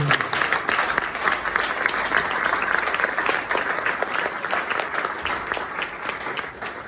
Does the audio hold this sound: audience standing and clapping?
yes